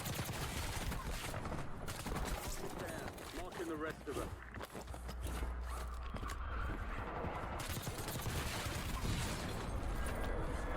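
Rebirth Island video game gunfire from the prison roof toward a tower: rapid bursts of shots with mechanical clatter and movement noise, dense and continuous, fairly faint overall.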